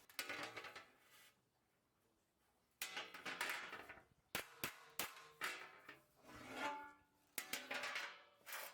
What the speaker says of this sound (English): Some of the dents will come out easier if we hammer from the other side.